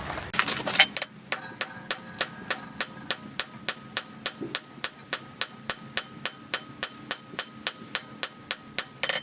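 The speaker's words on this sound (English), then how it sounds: "hold the tongs on this side, flip it around, and then hammer the rest" A hammer forges a hot metal blank for mbira parts, the piece gripped in flat tongs. Close, ringing hammer blows land at a steady, even pace of two to three per second with no talking.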